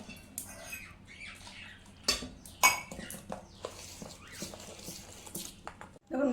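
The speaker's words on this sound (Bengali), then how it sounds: "সব দুধটা একবার অ্যাড করবো না, বারে বারে ঢেলে ঢেলে ভালো মতো করে মিক্স করে নেব।" Pancake batter is whisked in a bowl while milk is added bit by bit, giving irregular clinks and taps of utensil against the bowl with wet swishing between strokes.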